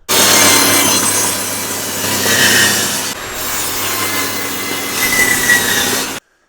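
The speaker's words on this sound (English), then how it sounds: "let's set the table saw up to do that" A table saw runs through oak on a cross cut sled in two loud passes, the buzzing cut easing off briefly near the midpoint before the second stretch and a sudden stop.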